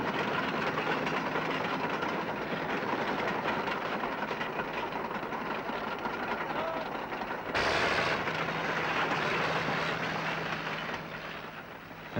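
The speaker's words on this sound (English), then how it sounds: "the tractor and the lifeboat cross over the soft sands on the beach and head for the sea" A tractor at Bridlington pushes the lifeboat across soft beach sand toward the sea. Its engine gives a steady, loud, broad rumble throughout, with a harsher surge partway through before it eases slightly at the end.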